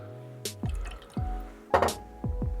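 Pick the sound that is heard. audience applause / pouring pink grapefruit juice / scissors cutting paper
pouring pink grapefruit juice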